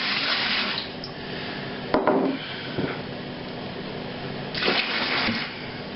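Water runs and pours in bursts while yeast is rinsed, gushing close by with a clunk of containers in between and a second pour near the end.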